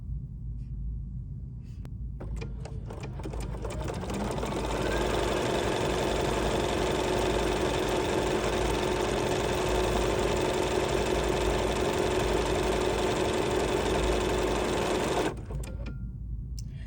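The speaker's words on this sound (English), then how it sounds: "And then of course I can lower my presser foot and stitch." A Bernina B 790 PRO sewing machine stitching garment fabric, running in a fast, steady whirring hum for about ten seconds after a few clicks, close and alone, then stopping.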